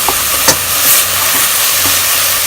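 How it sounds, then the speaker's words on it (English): Onions sautéing with ginger and garlic in a pan give a loud, dense, continuous hiss and sizzle, close up, with a couple of brief stirring knocks. "after about 7 minutes of sauteing the onion. And I'll saute it until golden"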